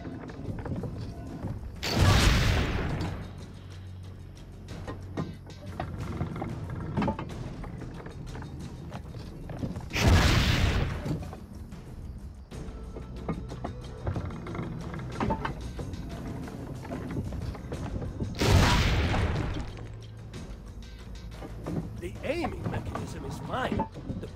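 Cannons firing during the intro of Assassin's Creed Brotherhood Remastered, three heavy booming blasts spaced several seconds apart amid game ambience and characters talking.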